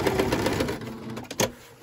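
A sewing machine stitches a lined zipper pouch in a steady close whir of rapid needle strokes, then stops with a brief click and rustle of fabric being handled.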